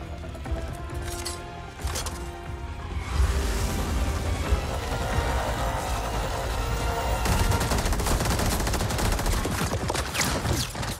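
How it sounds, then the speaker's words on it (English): Gunfire in Mortal Kombat 11 story mode: dense, loud bursts of rapid shots crackle close by, with a quieter stretch early on before the heavy fire resumes. "A lot of bullets with not a single hit"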